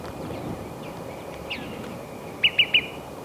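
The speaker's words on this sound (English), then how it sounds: "Jacob is filming a olive-sided flycatcher" An olive-sided flycatcher sings in a white fir forest, giving three quick, clear whistled notes near the end after a few faint chirps, moderately distant over a soft background hush.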